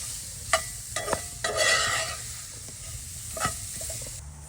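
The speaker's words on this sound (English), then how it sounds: "we're going to continue to stir so that it doesn't stick. And we're going to get the onions and all sauteed down" Green onions sautéing in a pan for crawfish cornbread, a few spoon scrapes and stirs over a soft sizzle and brief bursts of hiss, with no talking.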